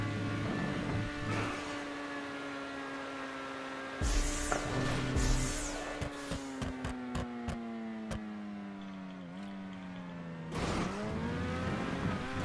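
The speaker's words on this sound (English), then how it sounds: "Engine firing back to life as soon as the wheels touch the ground." A race car engine in GTA Online stunt racing hums under steady load, then bursts back into a loud rev with sharp clicks and pops, slowly drops in pitch, and surges again at the end.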